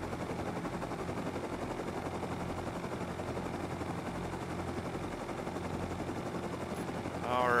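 A helicopter in the Rust video game flies steadily, with a constant dense rotor and engine drone filling the whole stretch and a brief louder swell near the end.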